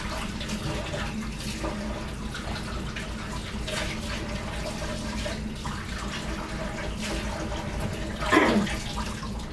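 Tap water runs steadily while a funnel is rinsed during puppy formula preparation, a continuous hiss and splash throughout with a brief louder gush near the end.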